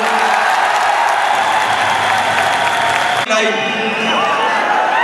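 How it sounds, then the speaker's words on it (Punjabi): Dense applause and crowd noise from an audience clapping for Bhagwant Mann, loud and continuous, briefly dipping and changing character about two-thirds through, with voices mixed in. "ਤਾੜੀ ਭਗਵੰਤ ਦੇ ਨਾਂ ਤੇ ਮਾਰ ਦਿਓ"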